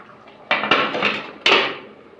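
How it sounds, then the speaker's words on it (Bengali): A plate set down as a lid over a pot of potato and egg curry, giving a few sharp clinks of crockery against metal in quick succession, close and fairly loud. "এই প্লেটটা দিয়ে একটুখানি ঢাকা দিতে হবে তরকারিটা এখন"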